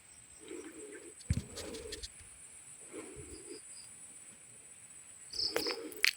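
Wild kacer magpie robins are heard out in nature: short bird calls repeat in bursts with pauses between them, under a constant high insect drone, with a few louder sharp chirps close by near the end.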